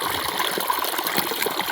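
Irrigation water trickles and flows steadily along furrows in a farm field, a continuous close-range watery rush with no talk.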